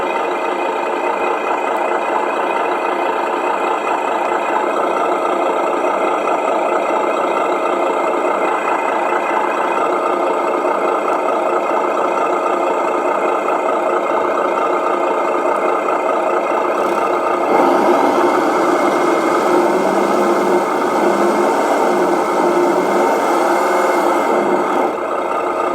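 Simulated diesel engine sound from a Tamiya Mercedes-Benz Actros radio-controlled model truck, a steady electronic idle hum that runs on throughout and grows slightly louder and rougher near the end, with no talk.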